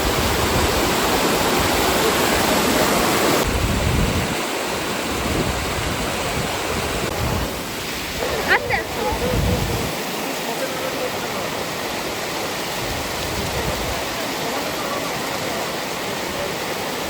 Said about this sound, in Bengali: এই যে এখানে পুরো জলটা নামছে আর সোজা চলে যাচ্ছে